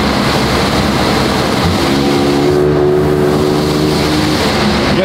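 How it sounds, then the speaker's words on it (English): A Camaro's turbocharged engine runs loud and steady while the blow-off valve stays open, giving a continuous whooshing hiss over the engine drone with no flutter. "The blow-off valve stays open."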